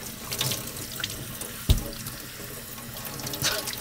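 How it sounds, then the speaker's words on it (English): Faucet water runs steadily while blue hair dye is rinsed off hair and neck, a continuous moderate splashing stream with one brief knock partway through, with no talking. "you just wash it all off."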